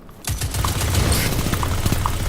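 Rapid close-range submachine gun fire in a Titanfall-style shooter, a loud steady burst of closely spaced shots running continuously for a couple of seconds with mechanical clatter and no talk over it.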